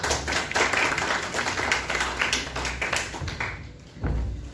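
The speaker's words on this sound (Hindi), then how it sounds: "आपको भरपूर तालियों में जस्टिस जनाब मोहम्मद तारक वैद साहब" An audience at a book inauguration ceremony applauds in a dense, steady round of clapping that thins toward the end, closing with a soft thump.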